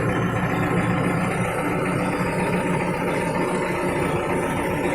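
A loader tractor engine, with a replacement loader, runs loudly and steadily nearby, a constant rumbling drone with no pauses.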